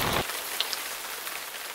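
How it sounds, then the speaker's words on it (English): Light rain drizzling outdoors over a garden, a steady soft hiss of drops with a few sharper patters close by, heard alone after a brief louder burst at the start. "Starting to drizzle."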